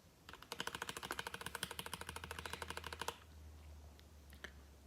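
Unlubed Gateron Black mechanical keyboard switches clack in a fast, steady run of about thirty scratchy keystrokes, close and crisp, then stop abruptly, leaving a low hum and a few faint ticks.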